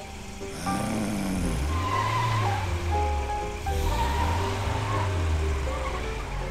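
Cartoon car revving and driving, its engine tone rising and falling in repeated swooping sweeps over a loud steady rushing bed, with a squealing tire note woven in and no speech.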